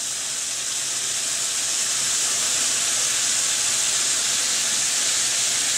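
Steady, dense sizzling hiss of marinated dogfish frying in a hot pan, continuous and fairly loud with no pauses.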